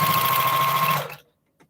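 A sewing machine runs steadily for about a second while stitching a quarter-inch seam in quilt fabric, then stops abruptly, leaving near silence with a faint click at the end.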